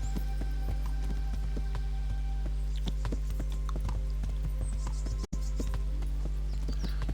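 Steady clip-clop of horse hooves in the video game Kingdom Come: Deliverance, walking at an even pace, fairly close, over a constant low background hum with no talking.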